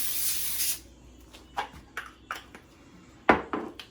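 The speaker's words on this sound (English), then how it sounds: "Just spray it on" A can of baking spray hisses onto a pan in one sustained burst, followed by a few short light taps and clinks of the can and pan, heard close and without talk.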